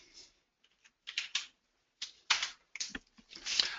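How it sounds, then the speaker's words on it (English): Password keystrokes typed on a computer keyboard during a software login, arriving as short irregular clusters of clicks with brief pauses between bursts, close and clear in a quiet room. "So if I just type in my password now,"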